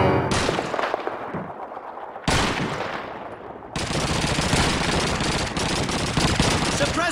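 Sustained machine-gun suppressing fire in the Call of Duty 2 Crossroads mission, loud dense bursts broken by brief pauses, with battle noise and a faint voice underneath.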